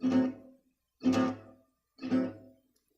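Three evenly spaced guitar strums ring out one per second in a jazz accompaniment pattern, each an unmuted upstroke that sustains briefly before fading, played alone.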